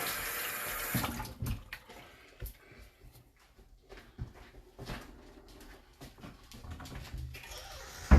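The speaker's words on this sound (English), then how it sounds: "I'll wash my hands again." A kitchen faucet runs while someone rinses their hands before cooking bacon, biscuits and gravy. The water is faint and intermittent, with soft splashes and uneven gushes from the tap and an occasional small clatter.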